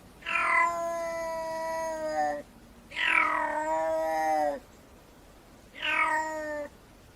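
A black-footed cat gives three long, drawn-out meowing calls, each lasting one to two seconds and separated by short pauses, loud and close, sounding much like a domestic cat's yowl.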